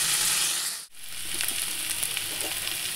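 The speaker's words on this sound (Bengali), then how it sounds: "তো এইদিকে মশলা ভাজা হয়ে গেছে," Soaked spice paste fries in oil with cumin seeds and bay leaf, a soft continuous sizzle with a brief dip near the start, then steady frying with light stirring touches.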